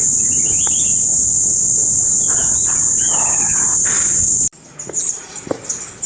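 Birds call in a tropical forest near a cave in Hindang, Leyte, with a few brief chirps over a loud, steady high insect drone that cuts out near the end.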